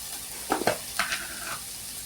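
A spoon stirs cauliflower fry with coriander powder in a hot pan, a few scraping strokes over a soft continuous sizzle, close and brief.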